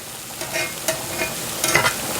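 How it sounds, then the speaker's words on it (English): Minced garlic sautéing in a pan for Marsala chicken, a close crackling sizzle broken by a few scraping stirs of a utensil, with no voices. "Now I'm going to mince 3 garlic cloves. It smells good. And I'm going to saute that."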